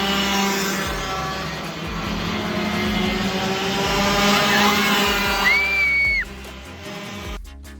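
A racing kart engine at a karting challenge event drones steadily and loudly at high revs with strong harmonic whine as it crosses the finish line, rising slightly before cutting off sharply near the end.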